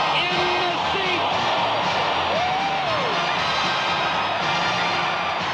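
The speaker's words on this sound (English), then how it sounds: "This crowd is dancing in the seats!" A football stadium crowd roars steadily after a successful point-after kick in a tied 1978 Atlanta Falcons game, while an announcer talks over the din.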